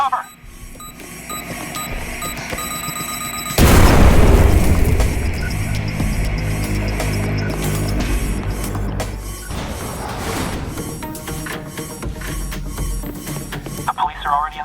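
A planted bomb goes off in the video game Liberated with a sudden heavy blast and a rumbling decay, set against tonal game music and beeping effects.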